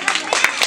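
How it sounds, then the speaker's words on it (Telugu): Brief burst of scattered audience clapping for a lucky draw winner at a government school gathering, a few distinct claps over a short moment. "క్లాప్స్."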